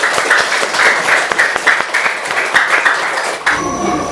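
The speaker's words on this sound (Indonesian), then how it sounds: "tepuk tangan" A classroom of students applauds during a lesson on tolerance, loud sharp claps in a quick, uneven burst that stops abruptly near the end, leaving a quieter room.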